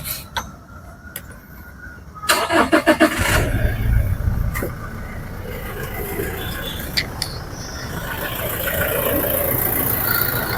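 A low-mileage Toyota Fortuner's engine cranks and fires about two seconds in, then settles into a quiet, steady idle that carries on alone with no talking.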